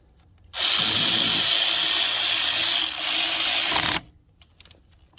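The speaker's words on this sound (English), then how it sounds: "I'm going to use the tool to tighten it back down" A power tool whirs as it tightens a bolt on the ICP sensor of a Ford 7.3 engine, one close, loud, continuous run of about three and a half seconds that stops abruptly, followed by a few faint clicks.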